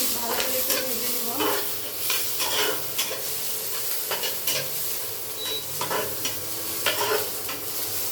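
Chopped onion and chili fry for chow mein, with a steady oily sizzle broken by repeated scraping and stirring strokes in the pan, close up and with no talking.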